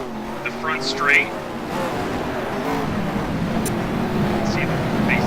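Several race cars roar down the front straight in a tight mid-pack battle at Symmons Plains in a racing video game, engine tones overlapping and shifting as they pass, with a commentator talking over the noise.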